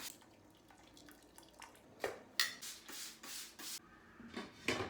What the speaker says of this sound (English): So boil is now finished. I'm just gonna remove the hops.